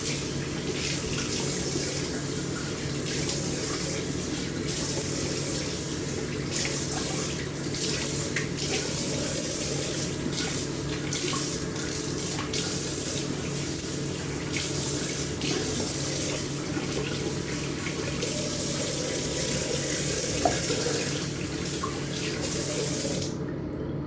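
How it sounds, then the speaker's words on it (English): A bathroom tap runs steadily while someone rinses off after a shave, a continuous close hiss of flowing water with small splashes, lasting nearly the whole time before stopping abruptly at the end. "Let's rinse off and end the shave."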